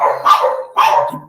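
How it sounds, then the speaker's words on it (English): Dogs bark nearby, two sharp, loud barks about half a second apart, with brief quiet between and a softer yip trailing the second. "the dogs are barking on the other side"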